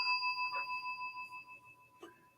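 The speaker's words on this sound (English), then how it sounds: "And you get a bell for that." A single bell-like chime used as a sound effect, with steady ringing tones that fade over two seconds, followed by a brief soft strike near the end.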